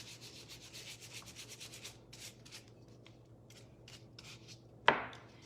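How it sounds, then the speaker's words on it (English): Shimmer wax rubbed by hand onto a plastic Christmas bulb, a soft, steady brushing friction repeating rhythmically up close, then a single sharp tap near the end. "once it's on, I can kind of rub it in"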